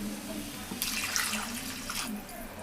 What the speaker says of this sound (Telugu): వాటర్ వేసేద్దాం.